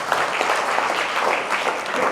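An audience at a school awareness program claps enthusiastically in dense, steady applause for the whole stretch.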